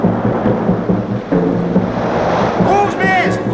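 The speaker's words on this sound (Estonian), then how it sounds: "Torm on väljas, kuulete ju?" A storm roars outside on a coast where a ship has run aground, with steady loud wind and crashing waves filling the whole stretch and a faint voice rising briefly near the end.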